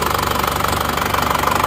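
A Panther car engine idles after its timing has been retarded slightly, with a loud close steady beat of rapid even pulses and a mechanical knock running throughout, then cutting off sharply at the end.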